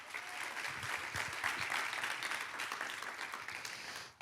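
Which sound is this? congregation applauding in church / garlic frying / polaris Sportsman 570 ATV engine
congregation applauding in church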